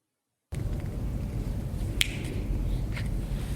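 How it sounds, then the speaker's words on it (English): A single sharp finger-snap-like crack rings out once inside Casemate 5 at Fort Mifflin, a brick-and-stone fort casemate. It is moderately loud against a steady low background hum, followed by a fainter click a second later. "we hear what sounds like a finger snap to me"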